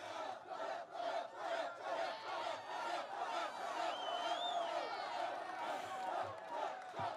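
A large, dense outdoor crowd at a Michigan campaign rally roars continuously, with cheering, whoops and scattered shouts swelling in waves and a whistle rising briefly above the noise.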